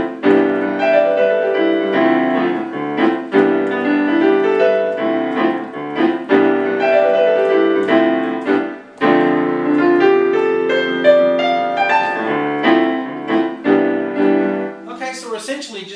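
Jazz chords are vamped on a melodic instrument, rhythmic stabs of rich harmonies with moving inner lines, played close and clear with a short pause midway and no talking.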